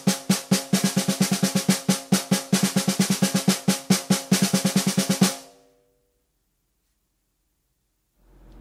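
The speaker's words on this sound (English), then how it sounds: "what I'll do is I'll play 4 16th notes going to 4 doubles, and it would sound like this." Snare drum played close and loud, alternating groups of four even sixteenth notes with four double strokes in a steady repeating rhythm, then stopping abruptly into silence.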